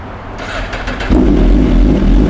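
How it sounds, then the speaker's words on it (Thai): A car engine cranks and catches, then settles into a loud, steady running roar close by. "เดี๋ยวลองฟังเสียงเครื่องยนต์กันดูนะครับ"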